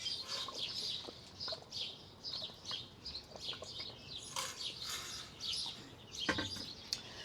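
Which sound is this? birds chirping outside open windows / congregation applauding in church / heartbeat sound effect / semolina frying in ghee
birds chirping outside open windows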